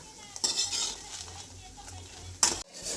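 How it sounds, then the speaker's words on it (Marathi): Chickpeas heated in a pan over a low gas flame, a quiet hiss with metallic spoon clinks and scrapes, including a louder clatter near the end, no talking. "इकडे आम्ही ग हरभरा गरम करते हे बघा"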